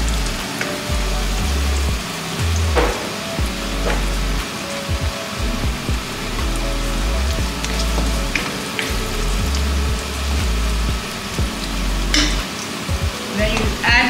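Turkey gizzard sizzles loudly in a pan with curry powder as it is stirred, a dense crackling fry broken by repeated scraping and clacking strokes of the spoon, close and continuous.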